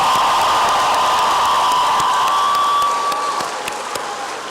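An audience applauds finalists at the Smith College Rally Day convocation, a dense, loud wash of clapping that fades somewhat toward the end, with a sustained tone and scattered claps and faint cheers.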